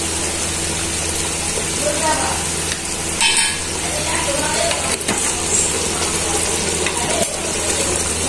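Chicken simmers in a pan with milk just added, giving a loud, steady bubbling hiss with clinks and scrapes of stirring, while a voice talks over it.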